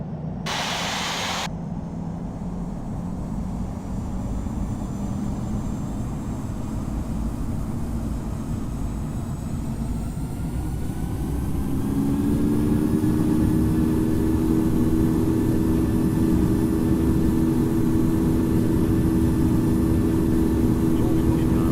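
A United E175 airliner taking off in the Infinite Flight simulator game, its engine hum rising in pitch and swelling into a steady, loud whine partway through, with a radio voice speaking over the start.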